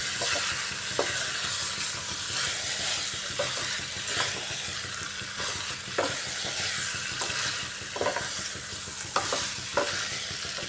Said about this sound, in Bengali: মশলার সাথে ভালো করে কষিয়ে নিতে হবে আলু পটল আর কাবুলি ছানাটাকে